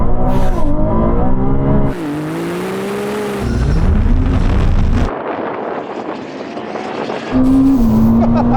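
Ferrari V12, V8 and V6 cars tear off in a drag race. Loud, close engine roars rise in pitch through each gear, broken by sudden gear-change drops, with wind buffeting throughout.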